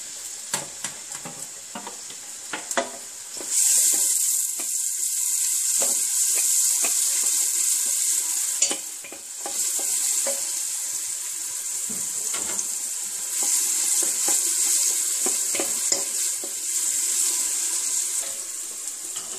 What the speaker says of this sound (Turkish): Soğanlarımı ekliyorum ve kavurmaya başlıyorum.